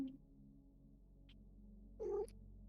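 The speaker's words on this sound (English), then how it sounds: "She has a funny meow" A single short cat meow, a rising trill-like call, sounds close and clear after quiet room tone with a faint click.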